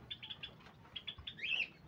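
A caged pet bird, kept as a veranda ornament in Java, gives a series of faint, short high chirps followed by a brighter rising whistle, heard alone at a modest distance.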